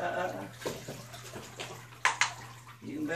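Water runs and splashes into a bathtub during a corgi's bath, with brief sloshing bursts and someone speaking over it throughout.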